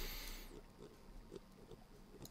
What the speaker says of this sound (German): Ja, mal Schweinchen, willst du direkt auf den Grill springen?